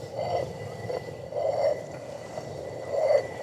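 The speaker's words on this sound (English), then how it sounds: "A rotary quern like this" A rotary quern grinds barley by hand at a medieval castle building site, giving a low stony rumble that swells in slow, regular surges about every one and a half seconds as the upper stone turns.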